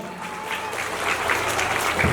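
A school crowd claps loudly for children's speeches at an Independence Day celebration, a steady dense burst of applause with no talk over it, sustained throughout.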